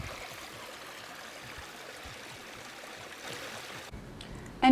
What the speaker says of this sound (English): This is a river which led to such a disaster.